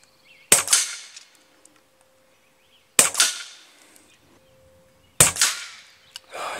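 Three sharp, loud shots from a HUBEN K1 .22 air rifle, each a crisp crack with a short ringing tail, evenly spaced about two and a half seconds apart in an otherwise quiet setting.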